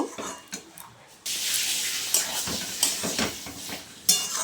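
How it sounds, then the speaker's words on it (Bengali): Ghugni sautéing in a hot pan, a bright sizzle that surges in suddenly partway through and keeps hissing steadily, broken by several scraping stirs and metal clinks of a spatula against the pan. "ঢেলে দেওয়ার পরে এখানে একটু কষিয়ে নেব"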